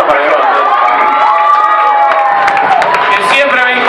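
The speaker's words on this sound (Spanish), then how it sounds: "Fuerte aplauso para Iván" Loud crowd cheering and applause at a rock club show, with whistles, shouts and clapping all blended together in a close, lively roar, and voices calling out through the noise.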